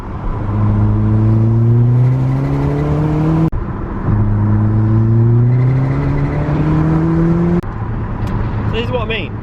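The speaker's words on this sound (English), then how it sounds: "So currently I'm hitting boost. I'm hitting 25, 26 PSI, which is what it's intended to be" A Revo RT330 car accelerates hard under 25–26 PSI of turbo boost. Its engine drones and climbs steadily in pitch through two long pulls with gear changes between them, heard from inside with a voice talking over it.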